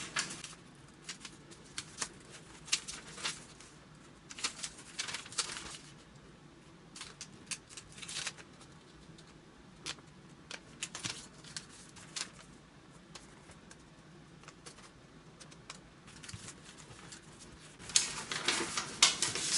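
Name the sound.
paper being folded for origami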